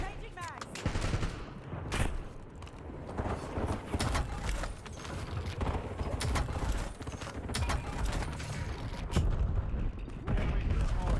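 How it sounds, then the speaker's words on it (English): Rapid clicks and clacks of a weapon magazine being swapped in the shooter game Warzone, mixed with bursts of gunfire and mechanical rattles throughout, with spoken voices heard over the action. "Changing mags."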